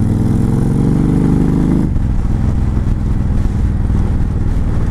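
A Honda Fury VTX 1300 chopper's V-twin engine runs loud and close, a throaty revving burst settling after a couple of seconds into a steady, even, lumpy idle.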